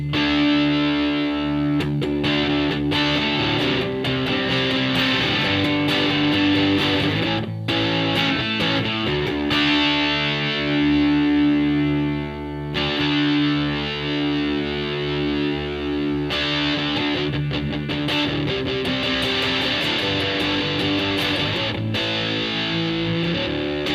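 Electric guitar played through a modded Boss XT-2 Xtortion distortion pedal with a mid-cut mod: a loud, continuous run of thick, saturated distorted chords and notes lasting the whole stretch, with no talking.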